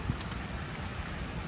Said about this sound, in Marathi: पाऊस अचानक येत आहे.